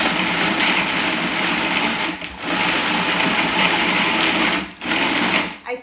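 A kitchen blender pulses pitted dates in loud, harsh motor bursts separated by brief pauses, roughly three pulses in a few seconds.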